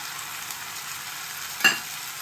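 Onions fry in a pan with a constant hiss of sizzling oil, close and even, broken once by a brief clink of a utensil.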